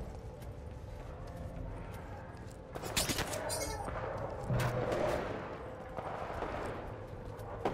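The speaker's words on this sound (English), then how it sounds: "Where am I getting shot at from?" Gunfire in Titanfall 2 crackles in bursts through a busy game mix, with a heavier volley near the middle; players talk over it.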